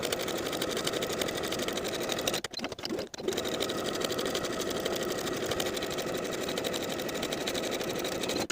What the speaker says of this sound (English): I'll top stitch close to my finishing stitches all the way around to finish the edges of the